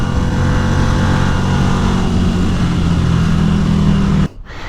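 A Ducati Scrambler motorcycle rides through a canyon with a loud, steady engine drone and rushing wind right up close. The noise cuts off sharply near the end.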